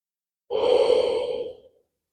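A single slow, audible breath, a long airy exhale lasting about a second, heard alone in silence.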